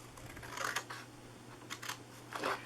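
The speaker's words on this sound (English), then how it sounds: "We're just going to cut down here" Scissors cutting paper card for a treat box, several short snips close by and faint, in quick clusters.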